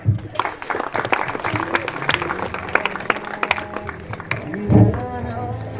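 Applause from an assembled audience at a high school farewell ceremony for a transferred maths teacher, a dense burst of crowd clapping with voices mixed in and a louder swell near the end.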